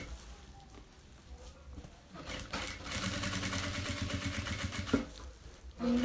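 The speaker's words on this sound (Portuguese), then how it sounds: "vamos passar a nossa costurinha de acabamento" A sewing machine runs a slow finishing seam on a small fabric school pencil case and toiletry box, its steady mechanical whirring and stitching rising after a quieter start, with a brief backstitch pause near the end.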